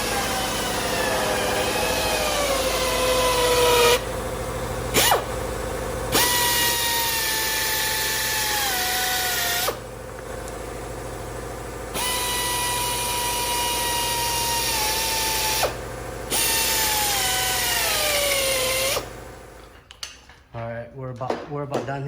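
A drill bores a small clearance hole for the exhaust on an Acura NSX during a Pride V2 2.5-inch exhaust install, a loud whine that rises and falls in pitch in long bursts with short pauses, ending in metallic clatter.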